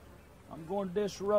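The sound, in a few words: honey bees buzzing around a hive box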